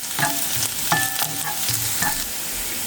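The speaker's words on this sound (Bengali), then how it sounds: "ঘি দিয়া পেঁয়াজ ভাজা।" Onions fry in a little ghee in a wok, a close, steady sizzle broken by a few scraping stirs of a spatula, with no voices.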